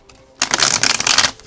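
Tarot cards shuffled by hand in one quick, loud riffling burst lasting about a second, close up with no talking.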